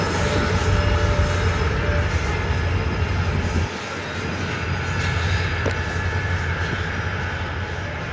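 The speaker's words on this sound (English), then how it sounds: "here comes the Rear Distributed Power Units, or DPUs, a CM44AH and another SD70 Mac" A coal train's rear distributed power units, a CM44AH and an SD70MAC locomotive, roll past close and loud in Brunswick. Their heavy engine drone and rail rumble are continuous, with a slight drop in low rumble midway.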